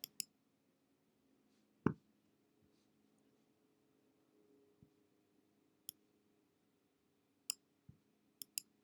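A computer mouse gives a handful of sharp, faint clicks spaced irregularly over a quiet background hum, with no talking.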